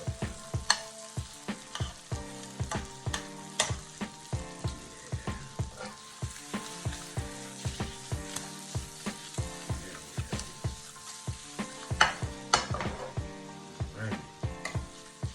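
Jumbo Cajun shrimp sauté in butter, a quiet sizzle punctuated by regular, rhythmic taps and scrapes from stirring in the pan, close by and continuing steadily.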